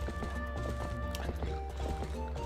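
Hooves of a herd of goats running in Zelda: Twilight Princess HD, a quick, steady clatter of clops that carries on through the whole stretch under continuous game music.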